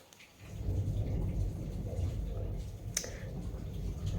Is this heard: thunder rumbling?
yes